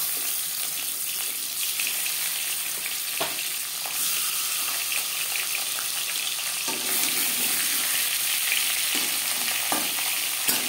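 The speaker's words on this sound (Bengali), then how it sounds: "পরের মাছ একইভাবে ভেজে নেব।" Steady hiss of catla fish frying in hot oil, continuous and close, with a few sharp clinks and stirring noises scattered through it.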